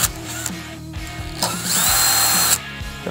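A power drill whines steadily through a short burst of drilling a 3.5 mm hole on a moped part, rising in pitch and intensity partway through before easing off, close and fairly loud.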